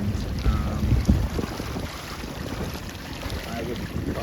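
29er sailboats heading out on the water off Coronado at a racing event, with wind buffeting and water washing around a boat in a steady low rush.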